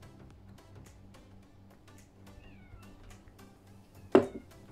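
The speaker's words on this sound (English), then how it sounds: "that was my cat" A single short cat meow near the end, sudden and fairly loud against a quiet, faintly humming background.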